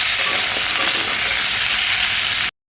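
Potatoes and papaya frying in a pan with salt and turmeric give a loud, steady, close sizzle that holds for about two and a half seconds, then cuts off abruptly into silence.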